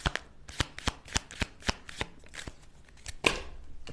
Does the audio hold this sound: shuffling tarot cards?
yes